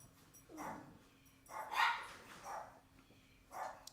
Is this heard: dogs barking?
yes